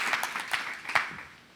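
Brief applause from a church audience during a mission testimony, a few scattered claps with some louder bursts, fading quickly.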